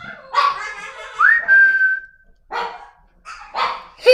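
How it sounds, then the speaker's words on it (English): A dog barks and whines in several short bursts separated by pauses, loud and close, with a high whistling whimper stretched between the first barks. "You're not getting food, but stop barking."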